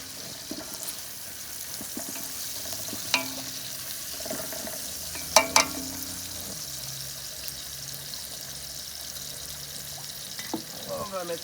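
Onions frying in hot oil in a pan, a soft steady sizzle with a few sharp clinks and stirring scrapes of utensils, fairly quiet, with light kitchen noise around it.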